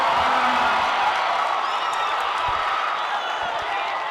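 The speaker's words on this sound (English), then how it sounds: "Listen to the crowd!" Loud, dense crowd noise from a packed gym at a girls high school basketball sectional championship between Lake Central and Munster, a steady roar of cheering with scattered claps and whoops right after a tying basket.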